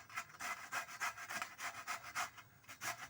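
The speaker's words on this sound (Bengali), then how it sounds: "আদা ঘষুনিটা নিয়ে কলাগুলো আমি ঘষে নেবো এইভাবে" Peeled bananas are rubbed against a hand-held ginger grater in quick, steady strokes, about a dozen soft rasping scrapes in a row, faint and close with no talk.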